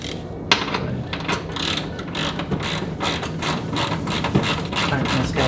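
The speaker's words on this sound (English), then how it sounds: "now I've got a 13mm socket and ratchet." A 13mm socket and ratchet tightening bolts on a Toyota Tacoma, a continuous run of fast, close metallic clicking with no talk.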